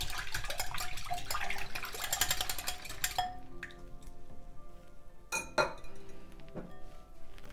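Oil and egg are mixed in a bowl for stuffed cheese rolls: busy clinking and scraping of a utensil against the bowl for about three seconds, then quieter scattered taps and a couple of sharp clinks.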